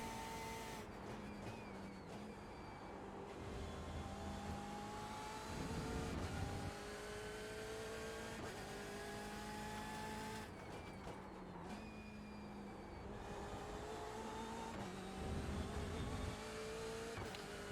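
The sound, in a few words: race car engine hitting rev limiter in iRacing video game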